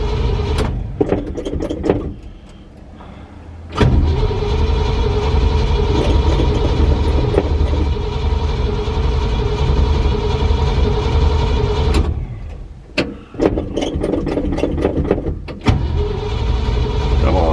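An old truck engine cranks and catches, then runs as a loud, steady, rumbling idle for a long stretch, with brief gaps where it dips and is cranked again.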